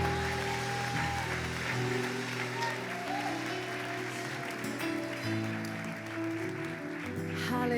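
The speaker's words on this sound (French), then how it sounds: "Est-ce qu'on peut applaudir le Seigneur Jésus ce matin?" A church congregation at a French-language Sunday morning service applauds the Lord Jesus, steady clapping throughout with organ or keyboard chords sustained underneath.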